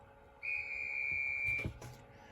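Conductor whistle sound function on an LGB 2085 model locomotive fitted with a Zimo MS950 decoder: a single steady high whistle tone held for about a second, followed by a brief rumble and click, with no talking.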